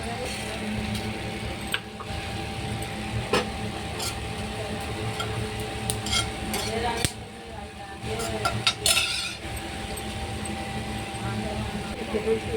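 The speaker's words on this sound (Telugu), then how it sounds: "సరిపడా ఆయిల్ ఇది నూనెలో వేయించుకోవాలి." Red chillies, curry leaves, garlic and spices fry in oil in a pan, making a faint continuous sizzle with occasional clinks of a spoon against the pan, under a person's talk.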